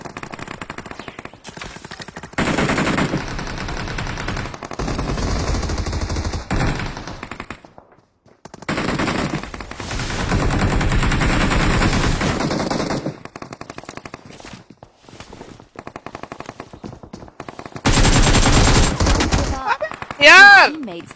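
Gunfire in PUBG Mobile, several loud bursts of rapid automatic fire separated by quieter gaps, with someone talking over parts of the action.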